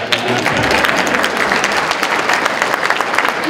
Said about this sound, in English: Can I get a applause?